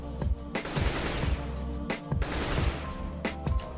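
Short bursts of AK-47 fire in a first-person shooter game. The shots are loud, sharp and come in quick clusters with brief gaps between them, and no talk is heard.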